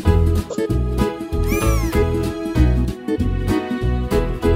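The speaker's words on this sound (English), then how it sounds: "Cats like to chase mice. A baby cat is called a kitten." A cat meows several times over a bouncy musical backing, the calls clear and close, one rising and falling in pitch.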